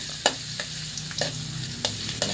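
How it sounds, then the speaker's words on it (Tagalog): Garlic sizzles in cooking oil as it heats in a pan, a steady close crackle broken by several sharp clinks from stirring. "At ilagay na natin ang ating bawang. Isabay natin sa pag-init sa ating mantika para hindi siya masunog."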